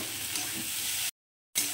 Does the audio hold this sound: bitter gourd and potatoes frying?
yes